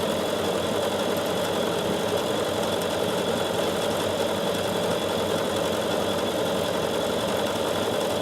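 Bernina 7 Series sewing machine stitching automatically, giving a steady, continuous mechanical whir and hum that stays loud and unbroken throughout, with no talking over it.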